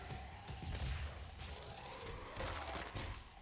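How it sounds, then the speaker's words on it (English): An explosion in the game Doom sounds as a series of crashing, shattering blasts with rumbling debris that rise and fall over a few seconds, heard without talk. "It just looked like a regular old explosion to me."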